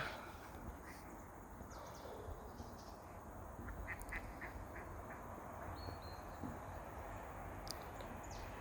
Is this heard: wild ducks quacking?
yes